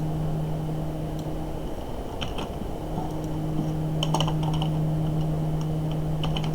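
Typing on a computer keyboard while entering GLSL file-reading code, scattered light clicking keystrokes in short bursts over a steady electrical hum, close and fairly quiet.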